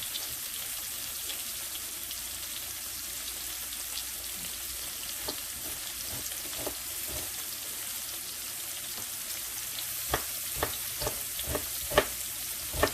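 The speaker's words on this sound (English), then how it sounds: "now we're going to add our onions, garlic, peppers, and I'm going to add my onions to this as well" Onions, garlic and peppers sauté in a pan after cooked meat, giving a steady close sizzle and fry hiss throughout, with sharper crackles and a few stirring clicks toward the end.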